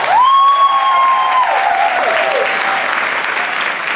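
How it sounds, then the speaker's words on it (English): Loud, close crowd applause with whoops and a sharp whistle at the start, rolling on as continuous clapping at a Models Inc. event. "Clap it up."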